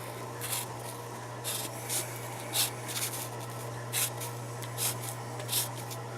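A pencil scratches across paper in short, uneven strokes with small pauses between them, close by and over a constant low electrical hum.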